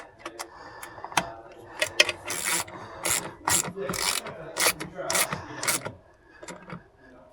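Ratchet clicking in short bursts while tightening a fastener on a Ferrari electrical part, close up and irregular, with brief pauses between strokes and faint talk.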